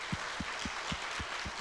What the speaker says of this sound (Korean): 우리 선교사님 위해서 한 박수